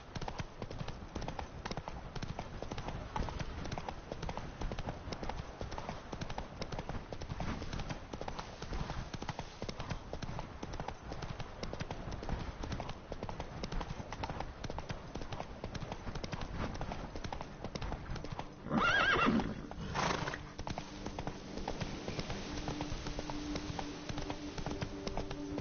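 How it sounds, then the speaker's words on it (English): Hooves clip-clop in a steady rapid gallop as a horse runs in Witcher 3: Blood and Wine, a continuous rhythmic pounding over a low ambient bed for the whole stretch, with a brief burst of other noise near the end. "Whoa there, Roach."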